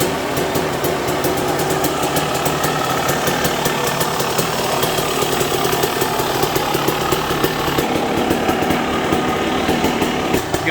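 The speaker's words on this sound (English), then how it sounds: "about to run a dyno run on this 250 Suzuki" A Suzuki RM250 two-stroke motorcycle engine runs on a dyno, loud and close, with a steady buzzing drone that holds throughout without any talk.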